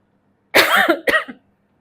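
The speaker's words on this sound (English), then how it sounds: "so I just coughed" Two sharp coughs in quick succession, close and loud, with silence on either side.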